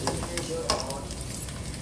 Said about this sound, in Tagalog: unahin natin itong luya. Sabay na pati prito ng galunggong.